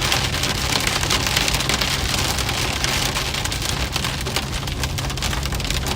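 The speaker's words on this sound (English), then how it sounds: "There we go, we got some hail." Pea-sized hail falls during a thunderstorm in the Northwest Arkansas and Southwest Missouri area, a dense, steady rattle of many small impacts over a constant low rumble, loud and continuous throughout.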